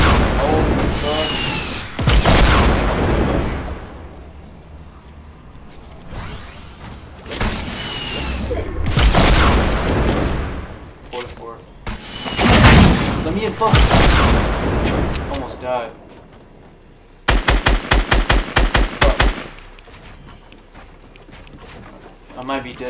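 Fortnite gunfire in a tense close fight, with loud repeated bursts of shots separated by pauses and a quick rattling volley near the end, while a player talks over parts of it.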